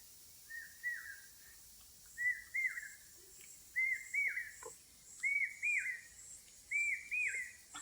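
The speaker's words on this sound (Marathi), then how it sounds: "पक्ष्यांचा फक्त आवाज माणसांचा आवाज येत नाही" Five short whistled bird calls repeat at a steady pace, each a quick rising-falling chirp, clear against a quiet outdoor background with no talking.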